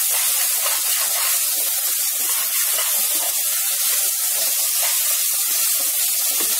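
Ginger garlic paste sautés in hot oil for a chicken gravy, making a loud, continuous sizzling hiss with no pauses and no voices.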